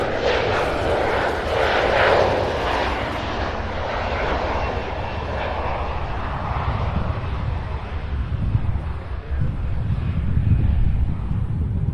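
Airliner on flight 3625 to Newark at Cincinnati/Northern Kentucky airport, a loud sustained jet engine roar with a rumbling low end and some wind buffeting, no talk over it.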